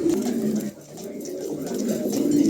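A pair of pigeons cooing nearby, low rolling coos that rise and fall twice over a couple of seconds, soft and close.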